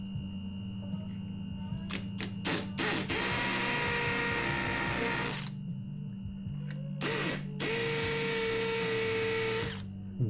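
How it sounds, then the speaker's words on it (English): A hammer drill in hammer mode runs in close, loud bursts, a hard rattling whine that starts and stops several times, with short clicks between the longer drilling runs. "I'll just start these. Hammer drill mode."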